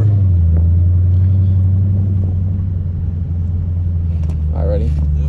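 A Dodge Hellcat idling with a deep, heavy rumble that holds steady and close, swelling slightly near the end, while people talk over it.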